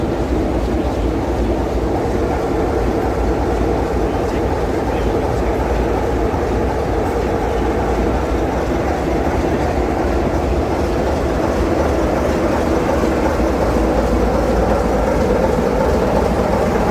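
A train rumbles past on the West Somerset Railway at Minehead, a steady, close clatter of wheels on rails that holds at an even loudness throughout, with no talk.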